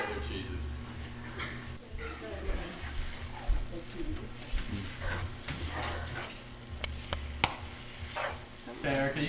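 A spoon stirs shredded cheddar cheese melting in a pot for mac and cheese, with soft scraping and faint bubbling under steady kitchen background noise and a voice talking.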